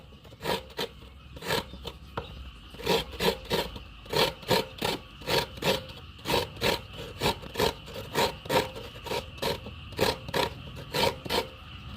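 Coconut grated by hand with a simple home grater for Thai dessert filling, a rhythmic series of rasping scrapes in steady strokes, close and loud, with no voices.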